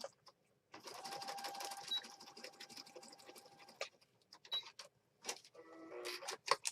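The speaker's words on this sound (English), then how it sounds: "we're going to stitch it into place" Sewing machine stitching a small fabric piece onto a page of a junk journal, a quiet whirring run of rapid stitches that pauses and restarts in short bursts.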